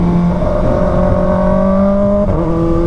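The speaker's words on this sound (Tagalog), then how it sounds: "Pagpasensyahan nyo na yung aking motor, sobrang ingay." A loud Kawasaki ZX-4RR motorcycle engine drones close by at steady high revs with a strong, sustained whine, its pitch dipping briefly near the end.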